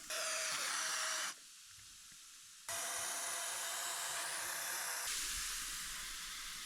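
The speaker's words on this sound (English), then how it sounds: "So this spray is going to go in between the fins and clean up any dust or dirt." Cleaning spray hisses onto the fins of a split indoor air conditioning unit in loud, close bursts, one long spray, a brief pause, then a longer continuous spray that changes tone near the end.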